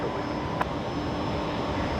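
A Singapore Airlines Airbus A350-900 taxiing at Brisbane Airport at night, a steady low engine rumble and whine with one brief click, no speech.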